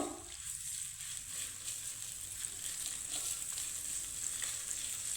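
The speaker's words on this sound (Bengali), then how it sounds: "তা আদার কাঁচা গন্ধ চলে যাওয়া অবধি একটু ভেজে নেব" Grated ginger and chopped green chili frying in hot oil give a steady, close hiss and crackle that lasts the whole time, with faint stirring and no talk.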